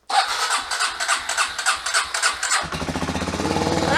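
Kawasaki Super Sherpa 250 dual-sport motorcycle cranking over in repeated pulses for a couple of seconds, then catching and settling into a close, steady single-cylinder idle.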